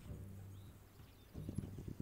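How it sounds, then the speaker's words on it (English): Horse hooves clip-clop in the video game This Land Is My Land, a soft low patter at first that turns into a brisker run of distinct hoofbeats over the last half second or so, with no talking. "I'm going to leave Bullseye, my horse, behind"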